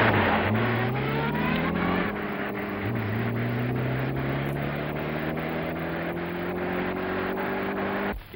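A vintage General Motors car picks up speed on a level, straight road, its engine note climbing steadily through the gears with rhythmic pulsing, loud and close, with no talking.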